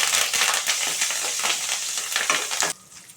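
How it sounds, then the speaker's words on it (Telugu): Mustard seeds, cumin and curry leaves temper in hot oil with a loud, crackling sizzle that carries on for almost three seconds and then cuts off abruptly, leaving a quiet tail. "ఇప్పుడు తాలింపు పోపు పెట్టుకోవాలండి."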